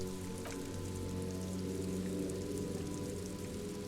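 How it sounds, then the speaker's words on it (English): Steady rain patters across a rainy, humid city in the Disco Elysium video game, a soft continuous ambience of drops and low rumble with no voices. "Rainy and humid, the city's feeling miserable too."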